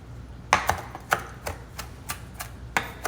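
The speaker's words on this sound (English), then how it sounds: "we'll cut that up because we are going to garnish our rice and our shrimp with some cilantro" A knife coarsely chops fresh cilantro for garnish, a series of about ten crisp, close taps on a cutting board in an uneven rhythm.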